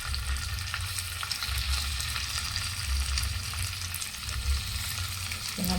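Fish pieces fry on a hot dosa griddle, giving a loud, steady sizzle that crackles on without pause and with no talking.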